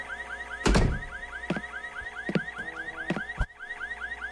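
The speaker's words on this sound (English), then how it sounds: "First, I have to turn off the car alarm." A video game car alarm blaring close and loud, repeating rising chirp-like whoops in a steady cycle, punctuated by several sharp thumps or knocks, with no talking.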